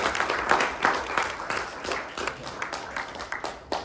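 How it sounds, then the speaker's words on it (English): Scattered applause from a small audience after a student presentation on an Oberlin campus, a moderate patter of hand claps that continues steadily on its own for a few seconds. "Let's give Julia a round of applause"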